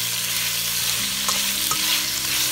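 Pepper steak stir-fries in a pan that still holds its sauce and meat juices, giving a loud, continuous sizzle with a few brief scraping stirs partway through. No one speaks.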